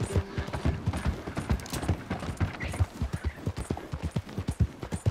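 Horse hooves clip-clop steadily at a walking pace in Red Dead Redemption 2, a big horse's evenly spaced thuds sounding close and clear over faint ambient game sound.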